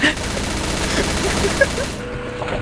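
Rapid automatic gunfire from the video game Left 4 Dead rattles continuously for a couple of seconds, dense and steady, then cuts off abruptly.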